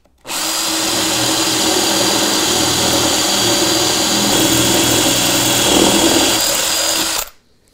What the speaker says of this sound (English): I take a 10mm drill.